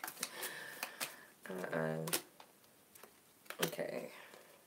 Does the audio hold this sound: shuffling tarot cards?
yes